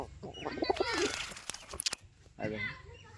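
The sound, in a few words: pet bird calling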